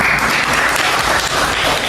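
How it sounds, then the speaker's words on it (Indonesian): A short, dense burst of applause from students in a classroom during a curriculum lesson, clapping together at close range. "Tepuk tangan dulu."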